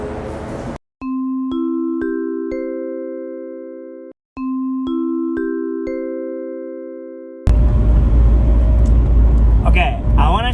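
Two sets of rising electronic chime tones ring out in a car's cabin, then a loud, low engine rumble abruptly takes over as the car pulls away for a test drive.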